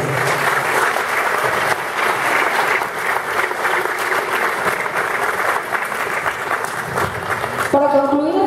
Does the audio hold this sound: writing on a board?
no